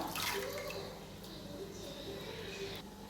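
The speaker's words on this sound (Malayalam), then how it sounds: "ഒരു കപ്പും കൂടി വെള്ളം ഒഴിച്ച് കൊടുക്കുകയാണ്" A cup of water is poured into a chicken biryani pot, a steady close splashing and gurgling rush lasting a few seconds.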